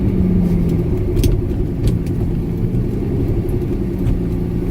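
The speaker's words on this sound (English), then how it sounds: "We'll wait for the big semi to pass." A big semi truck passes close by on a road, a loud, steady low engine rumble and tyre roar that holds strong throughout with no voices.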